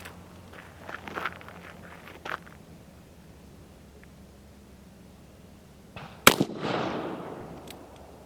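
A Colt 1860 .44 caliber black-powder revolver fires a round ball: one sharp, loud shot with a ringing tail after a few seconds of quiet handling noises.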